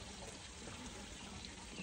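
Water running out of a hose or tap near a drain hole outdoors, a steady faint hissing splash that continues evenly throughout without any voices.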